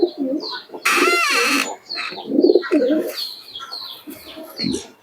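Malbai, Madras and Giribaz pigeons, aged birds, coo in repeated low throaty bursts alongside a brief loud burst of noise and scattered higher chirps, fairly close.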